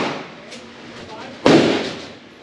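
A single gunshot from a rare gun at the Battlefield Vegas shooting range, one loud, close crack midway through that decays into a ringing tail over a quieter room.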